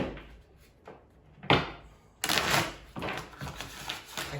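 Quiet riffling and flicking of a large deck of cards, soft scattered taps building into a denser shuffling rush near the end.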